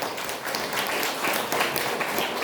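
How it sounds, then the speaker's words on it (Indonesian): Applause from parents and guests at a madrasa school gathering in Indonesia, a quiet, brisk smattering of clapping from a moderately sized audience heard at some distance, even and unbroken for a couple of seconds. "Tepuk tangan untuk Bu Eni."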